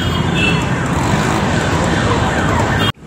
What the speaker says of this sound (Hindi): एम्बुलेंस जा रही है, लोग साइड नहीं दे रहे हैं,